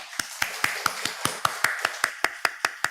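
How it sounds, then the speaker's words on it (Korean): Rhythmic congregational clapping during a church worship service, about fifteen crisp, evenly spaced claps in quick succession, steady in tempo and fairly close, with no talk over them. "하나님께 영광의 박수 드리겠습니다"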